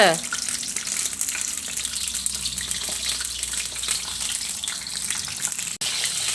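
Mackerel frying in oil over medium heat gives a steady, dense crackling sizzle throughout, close and fairly loud, with a brief voice at the start and a sharp clatter near the end.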